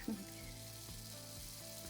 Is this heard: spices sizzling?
yes